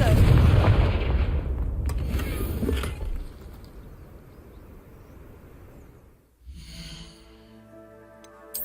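A Confringo blasting spell from Hogwarts Legacy goes off as a loud, rumbling explosion that decays over several seconds, followed by a quieter chiming magical tone.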